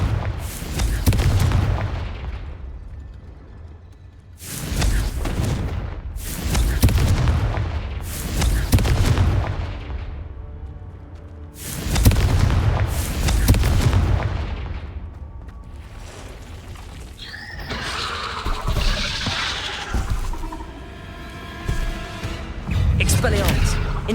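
Fiery Confringo spell blasts in Hogwarts Legacy go off as a run of heavy, booming explosions, loud and close, in irregular bursts with crackling magical effects near the end and a voice talking over the action.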